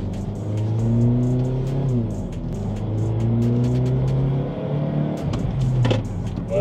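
A Kia Niro with a 1.6 hybrid engine accelerates hard, its engine note climbing in pitch, briefly easing, then rising again as a loud, steady drone heard from inside the car.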